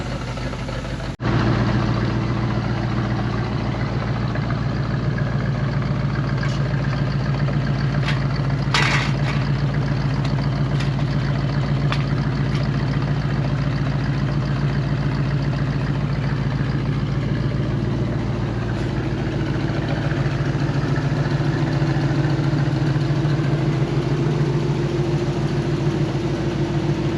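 A vehicle engine idles steadily and close by, a constant low rumble that runs without a break, while exhaust burns off debris and gives out a few faint crackles over the drone.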